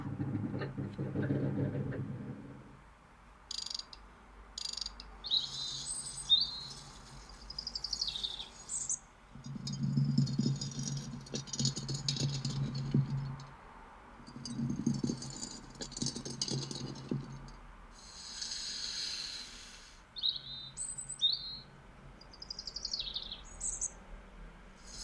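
Quiet outdoor ambience with scattered bird chirps and calls over a low, intermittent rumble, faint and fairly distant.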